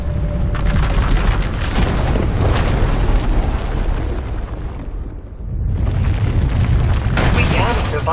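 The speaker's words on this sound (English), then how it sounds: "Her power is racing out of control. When it erupts, the entire asylum will be destroyed." A surging magical power eruption explodes in a Star Wars: The Old Republic cutscene, a sustained loud roaring boom and rumble that dips briefly, then swells again with crackling debris-like bursts, with no talking.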